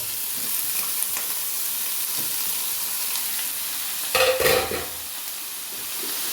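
Mushrooms tipped into hot coconut oil with shallots and curry leaves fry with a continuous bright sizzle and hiss, and a louder burst of crackling and stirring comes briefly near the end.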